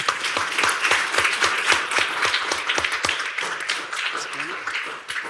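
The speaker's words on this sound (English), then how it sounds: "Let's give them a round of applause." Council meeting audience giving a round of applause, steady overlapping claps for several seconds that thin out toward the end, with some voices mixed in.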